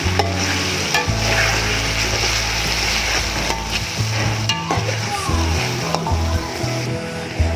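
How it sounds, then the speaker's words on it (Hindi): A crushed mix of coriander, black pepper, green cardamom and ginger-garlic is stirred in a hot pan for Arabian chicken kabsa, with loud knocking and scraping strokes over a constant sizzle, close up. "इनको अभी हमने अच्छी तरीके से मिक्स करना है।"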